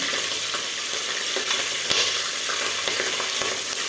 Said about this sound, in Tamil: இனி பச்சை மிளகாயும் கருகாப்பிலையும் போட்டுக்கலாம்